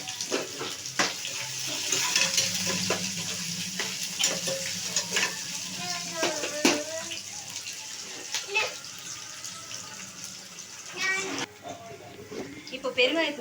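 Onion frying in a pan for a Tamil carrot stir-fry, a soft sizzle with scraping stirs and clinks of the utensil, while someone talks over the cooking.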